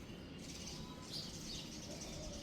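Sparrows chirp faintly during the morning at a home, with a few scattered high tweets over a steady background hum.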